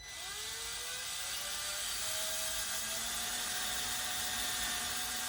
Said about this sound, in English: I'm just gonna finish drilling those holes.